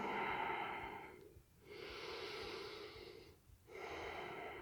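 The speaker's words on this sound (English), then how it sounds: "Let's take 2 breaths." Slow, steady breathing during a yoga runner stretch, two long airy breaths close to the mic, each followed by a brief quiet gap, with no talking.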